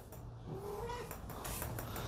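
A breeding cat in an air-conditioned room with her litter of six kittens gives a faint, drawn-out meow against a soft background hum, with scattered rustling and clicks.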